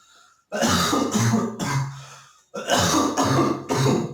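A run of throaty coughs and throat-clearing bursts, close and loud, in two clusters separated by a brief pause.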